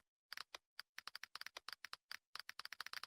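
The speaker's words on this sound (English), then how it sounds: "Following that, there is the beautiful keyboard sounds." Crisp keyboard typing effects from a GX browser mod: rapid, irregular clicks in quick bursts, close and alone with no talk.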